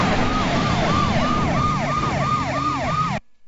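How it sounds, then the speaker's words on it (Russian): A fire engine siren wails in a loud, fast up-and-down cycle over traffic rumble, close and continuous before cutting off abruptly near the end. "Пожарная машина просто она страдает,"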